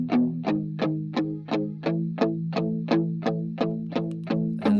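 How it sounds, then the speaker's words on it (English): A crunchy, distorted electric guitar from an indie-rock song repeats a steady chugging pattern of about a dozen evenly spaced strummed hits, each one decaying quickly. It sounds close and plays alone. "What I've got here is a crunchy guitar,"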